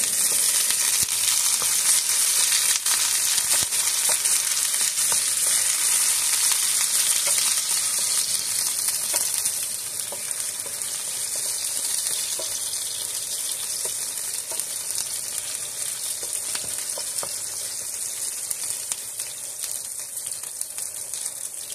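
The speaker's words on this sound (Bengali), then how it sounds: "কাঁচা ঝাল পেঁয়াজটা আমি ভালো করে একটু ভেজে নিয়েছি" Green chilies and onion sizzle steadily in a hot pan, a dense continuous frying hiss that runs loud throughout and eases slightly partway through, with faint stirring and no voices.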